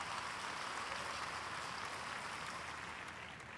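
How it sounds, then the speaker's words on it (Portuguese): Church congregation applauding during a worship service, a steady dense wash of clapping filling the room from start to finish, no voices above it. "Um forte aplauso ao Senhor antes de sentar-se."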